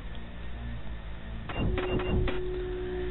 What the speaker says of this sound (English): I apologize for the odd sound effects.